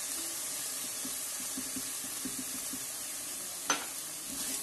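Flour being roasted with chicken in a pan, a faint steady sizzle with soft intermittent scraping stirs and one brief sharp clink.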